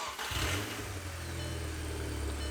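A car engine cranks and fires up after an ECS Stage 2 clutch install, catching quickly and settling into a steady, deep idle rumble close by.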